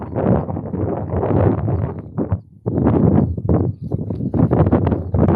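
Strong wind roars and buffets against the microphone in heavy gusts, dropping briefly before surging back.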